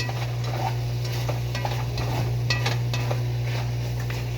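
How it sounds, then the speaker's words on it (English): Garlic sizzling in a hot pan for mushroom soup, with a utensil stirring and scraping through it in short strokes, close and steady, with no talk. "I'm going to go in with the garlic here now that it's going"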